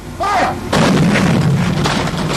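Pyrotechnic explosions set off for film model shots, a sharp booming blast followed by another heavy detonation with rumbling decay, loud and close, over a brief moment of background sound.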